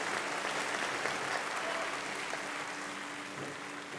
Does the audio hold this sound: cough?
no